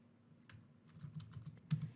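Keys tapped on a computer keyboard while a customer's full name is entered into a billing form, a quiet irregular run of light clicks with one sharper stroke near the end.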